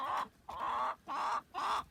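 Chickens cluck in four quick bursts with short gaps between them, close by and fairly clear, with no talking.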